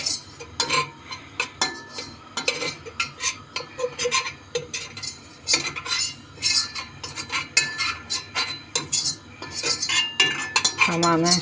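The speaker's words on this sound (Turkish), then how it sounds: "Şimdi kaşıkla bir, bunları bir kazıyalım" A metal spoon scraping and clinking against limescale inside a metal tea kettle, heard as a close run of irregular scratchy strokes and small knocks with short gaps between them.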